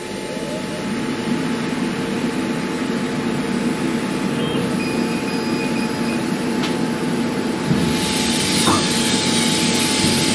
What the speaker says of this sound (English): So you can hear the high pressure airflow now going as well.